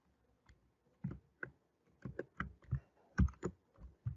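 A computer keyboard clicks under a few quick presses of a Shift Alt F shortcut, about a dozen crisp, close taps in an uneven rhythm with short gaps, alone and quiet, with no voices.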